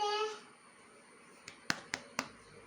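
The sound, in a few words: children clapping in a classroom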